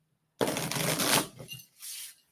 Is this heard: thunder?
no